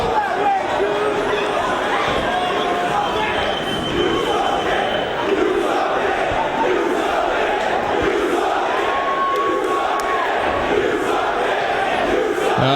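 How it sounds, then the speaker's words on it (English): A wrestling arena crowd at an ROH Death Before Dishonor show roars and chants in a loud, continuous, dense mass of voices that keeps up throughout, with shouts rising out of the din. "The crowd showing their appreciation of the Christopher Street Connection"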